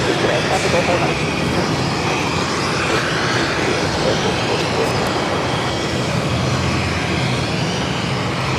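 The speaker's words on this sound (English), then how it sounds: "787-9 Dreamliner will be taking off to Tokyo." A Boeing 787-9 Dreamliner takes off at Boston Logan, its engines producing a loud, broad, continuous roar that holds steady throughout.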